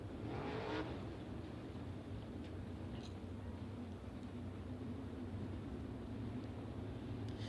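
High Limit sprint cars accelerating on a green-flag restart at Texas Motor Speedway, a distant continuous engine roar holding steady across the whole stretch.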